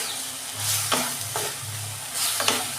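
Soybean chunks fry in hot oil in a pan, giving a steady close sizzle broken by a few scraping stirs of a spatula, with no talking.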